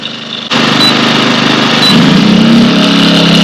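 Gas generator running, jumping in at half a second to a loud steady engine drone, then rising in pitch and strain as a simulated load comes on, close and constant.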